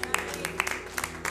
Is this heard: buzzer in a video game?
no